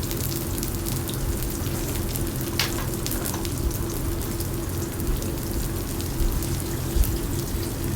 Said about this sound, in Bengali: এবার পেঁয়াজ দিয়ে দিলাম।